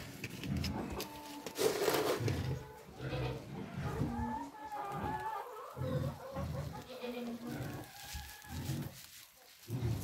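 Turkeys and other farm birds at feeding time, with steady gobbling, clucking and bleating-like calls from a close flock, and a person talking intermittently among them.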